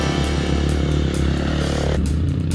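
Enduro motorcycles climbing a rough high-country trail, engines loud and close with steady revving and a gear shift partway through, no voices.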